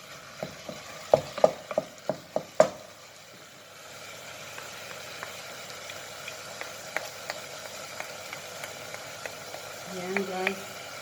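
Ground meat is crushed in a pan while cooking spaghetti sauce, starting with a quick run of sharp utensil taps on the pan, then a low sizzle with sparse scraping clicks, close and moderately quiet.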